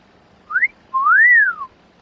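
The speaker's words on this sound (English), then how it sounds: "don't whistle" A person whistles two notes in a quiet room: a short rising chirp, then a longer tone that swoops up and falls back down, clear and close with no other sound.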